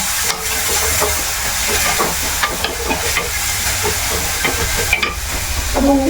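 Four chopped shallots, with some garlic, sizzle steadily in hot oil for a moru kootan, a loud continuous close frying hiss with faint stirring and no talk.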